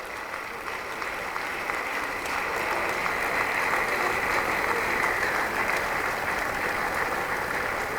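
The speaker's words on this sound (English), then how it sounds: "She deserves all the round of applause." A large audience gives steady, sustained applause for a graduating student with a perfect 5.0 record at a Lagos State University honours ceremony, dense clapping filling the whole stretch with no voices on top.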